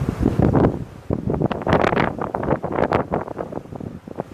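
Gusty wind buffeting and rumbling in uneven bursts, loud and close throughout, outdoors at an open beehive.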